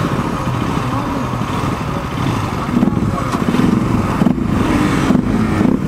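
Motorcycles including an RC200, R15 V3, R15 V4, RS200 and NS200 race along a highway, their engines droning loud and continuous, with rising revs toward the end.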